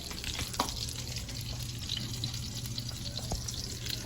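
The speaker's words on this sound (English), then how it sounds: "let's flip some meatballs." Meatballs frying in a pan, giving a steady dense sizzle throughout with faint clinks and a low hum underneath.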